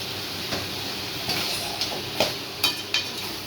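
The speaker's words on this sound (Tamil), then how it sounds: "ஒரு நாலஞ்சு நிமிஷம் நல்லா வதக்கணும்" Ingredients for a chicken curry are sautéed in a pan, giving a low continuous frying hiss broken by a few sharp spoon-on-metal clacks and scrapes at irregular intervals, close by.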